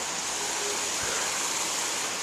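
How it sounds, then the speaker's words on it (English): A waterfall on a forest path in Sweden, heard as a steady, broadband roar of falling water that stays constant and moderately loud throughout, with no other sounds standing out. "There's the waterfall."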